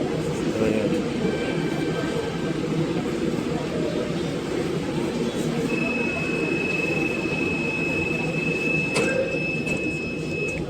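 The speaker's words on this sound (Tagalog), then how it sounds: "Nagsasarado na po ang pintuan ng tren." A metro train at Guadalupe Station runs with a continuous loud rumble and rolling noise, with a few brief higher squeals and a sharp click near the end, heard close from inside the carriage.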